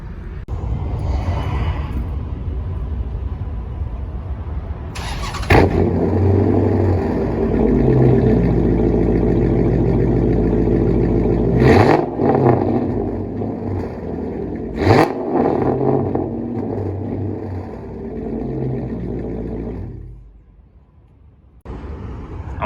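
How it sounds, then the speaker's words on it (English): Dodge Charger Hemi V8 with straight-pipe, catless exhaust and SLP Loudmouth mufflers, idling loud and deep with several sharp revs, close by, while waiting in line; rumble drops away near the end. "I'm gonna go ahead and show you how it sounds right now, being a full straight pipe plus catless."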